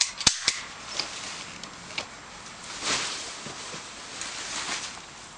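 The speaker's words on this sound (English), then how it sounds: "It's a toy gun." A toy gun fires outdoors: a few sharp, close cracking pops, the strongest near the start, followed by scattered fainter snaps and light rustling, with no voices.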